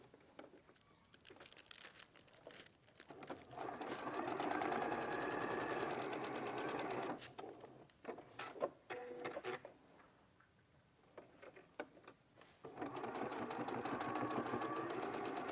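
A sewing machine stitches down the sides of fabric zip tabs, its rapid mechanical whir coming in two long runs separated by quieter handling sounds and brief pauses.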